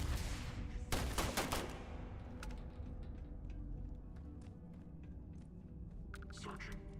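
Gunfire in the video game Starfield: a loud, rapid burst of shots early on, then a low rumble and scattered smaller clicks, with someone talking over it.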